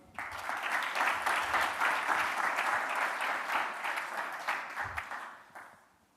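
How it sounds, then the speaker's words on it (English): Audience applause at a fintech startup demo day, a steady dense round of clapping from a crowd that holds for several seconds before fading out at the end. "A big round of applause to all of you."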